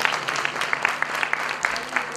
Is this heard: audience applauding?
yes